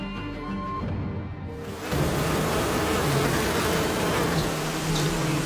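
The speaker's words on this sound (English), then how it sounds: "you see the bees all over them" Bees swarming thickly during traditional cliff honey hunting in Nepal, a dense close buzzing that swells louder partway through and then holds steady, with no voices.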